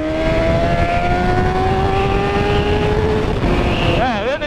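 A Honda CBR 600RR motorcycle roaring loudly close by, its exhaust holding a steady high drone whose pitch slowly rises as it revs, then warbling in quick shifts at the end, with no voices over it.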